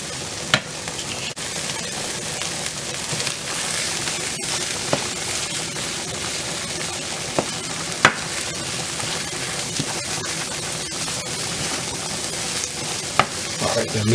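Potatoes and garlic frying in a pan with a constant crackling sizzle, punctuated by occasional sharp pops and the scrape of stirring.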